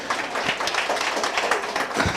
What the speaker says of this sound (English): Now, you can give a round of applause actually